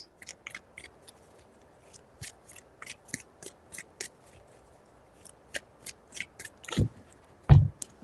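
Tarot cards are shuffled in quick, crisp riffling bursts with short pauses, close and fairly quiet, ending with a couple of louder taps.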